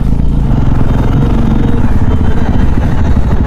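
Several motorcycles idle and clatter as they pull in and park at a roadside highway dhaba, a steady loud low engine rumble throughout with faint voices in the background.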